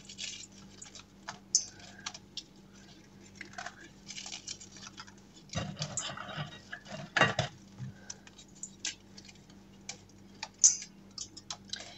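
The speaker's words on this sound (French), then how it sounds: "Je vais émietter des biscuits." Biscuits are crumbled and broken by hand for a chocolate saucisson, giving close, irregular dry cracks and crunches with short pauses and a few sharper snaps.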